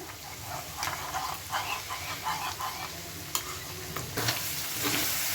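Keema pasta sauce, loosened with added water, is stirred in a sizzling pan, giving a steady close-up frying hiss broken by soft scraping stirs and a few clinks, with no talking.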